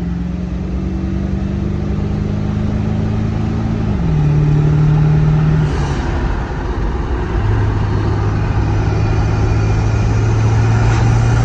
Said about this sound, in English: You can hear that turbo a little bit.